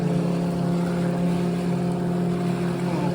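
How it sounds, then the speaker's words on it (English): Motorboats go by on the water, a steady low engine drone heard from a floating boat, continuous and moderately distant with no talk. "these boats have been going by"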